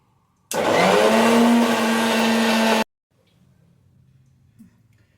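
A kitchen mixer grinder whirs loudly for about two seconds while grinding green chillies, coriander, garlic and cumin, then cuts off abruptly, leaving faint handling sounds.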